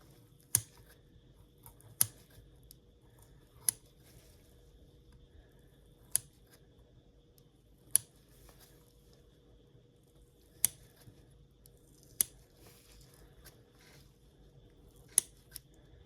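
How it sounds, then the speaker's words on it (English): Sharp, isolated snips of scissors cutting fetal pig tissue during a dissection sound at irregular intervals, crisp and close against a quiet hum, with no talking. "Let me use my scissors."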